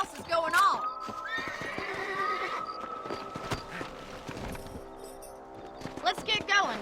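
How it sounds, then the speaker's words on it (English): Horses whinny and neigh over clip-clopping hooves in the video game Red Dead Redemption, with a voice talking in between. "Let's get back on the horses and see what else is going on."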